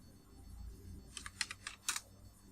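Several quick, light keystrokes tapped on a computer keyboard while typing text into a Word document, faint and close over a low background hum, no voices.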